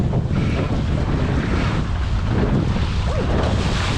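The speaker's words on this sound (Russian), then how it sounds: "катаемся по волнам" Wind roars across the microphone while waves slosh and surf around a Laguna-Kombi+ sailing dinghy out on a bay, a constant, close, loud rush with no voices.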